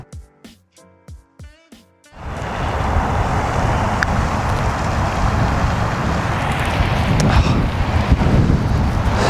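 Strong wind gusts roar across an open golf course on the Nicklaus Course at Reunion, buffeting the microphone in a loud, continuous rush after a couple of seconds of quieter, broken sound at the start.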